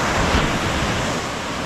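Waves wash steadily onto the shore in a loud, continuous rush of surf, with wind noise and no voices.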